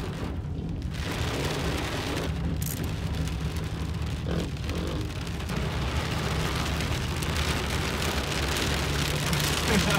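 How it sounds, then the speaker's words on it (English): Dense, steady rain pours down without letup, a broad hiss of drops pattering on hard ground, close and loud throughout. "The rain's coming. The streets are getting slick."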